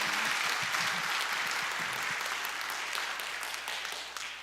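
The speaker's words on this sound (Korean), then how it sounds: "잠깐만 전체적으로 한번 박수해 주시기 바랍니다" A forum audience on an anti-discrimination law topic applauds together, a dense, even wash of many hands clapping that slowly tapers off toward the end.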